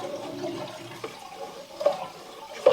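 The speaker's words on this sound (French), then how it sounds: "Il y a tout plein d'eau qui arrive là" Water gurgling and rushing down a kitchen sink drain that has just been cleared of a partial blockage, a soft irregular flow with small bubbling pops, close by.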